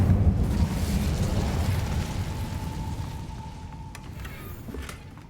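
Incendio fire spell cast in a Hogwarts video game, a loud low rumbling burst that swells at the start and slowly fades, with a faint tone and light crackles near the end.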